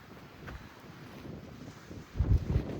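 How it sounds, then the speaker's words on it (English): Wind rushes and buffets an electronic in-ear shooting protection microphone in low, uneven gusts, swelling to a stronger blast near the end, with no speech. "I can hear everything, especially the wind. It's windy right now."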